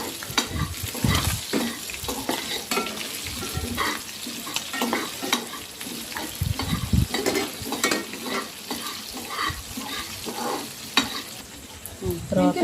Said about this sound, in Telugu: ఫస్ట్ ధనియాలు ఇవన్నీ కొంచెం ఫ్రై చేసుకోవాలి.